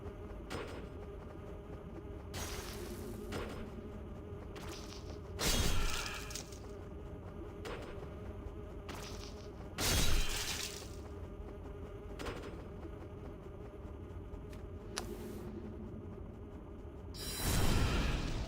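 Enemies in Demon's Souls give off an insect-like buzzing drone that runs steadily throughout, with louder swelling bursts at intervals and no voices.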